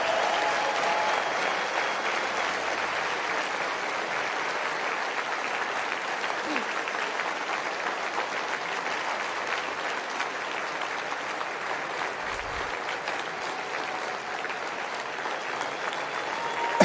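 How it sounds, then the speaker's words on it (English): Steady, sustained applause from a large audience, a dense wash of clapping that holds at an even level throughout. "give her a round of applause anyway."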